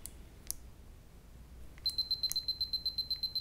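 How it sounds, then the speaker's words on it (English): Canon T70 film camera giving an error warning: a click, then a rapid run of short, high, evenly pulsed electronic beeps, close and clear over near silence. "See, whenever we click the shutter release, all we get is a beep in return."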